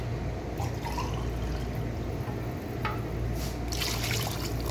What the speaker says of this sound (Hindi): मैंने इसके अंदर पानी ऐड कर दिया है।